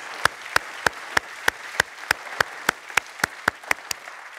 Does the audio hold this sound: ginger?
no